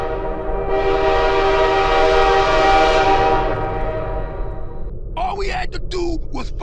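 A train and its loud, sustained horn blare from a FNAF-themed SFM animation, holding steady for about four seconds before cutting off into choppier noise with a voice and crashing sounds.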